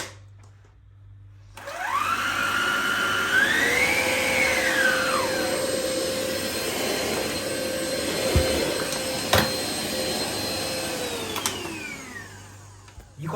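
A Vax Evolve cordless upright vacuum cleaner runs with its brush switched off, a loud close whine that starts suddenly, rises and falls in pitch as it is pushed about, and carries on steadily with occasional sharp pickup clicks.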